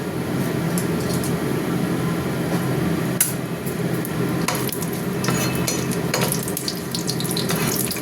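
Cloves and cardamom frying in hot oil in a kadai, a busy close crackle and hiss with a few sharp clinks and taps of a utensil against the pan, no voices.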